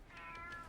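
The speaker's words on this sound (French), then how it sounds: "Oh, Miaou. the neighbor's cat." A neighbour's cat gives a single drawn-out meow, fairly close and clear, over quiet room tone with no talking.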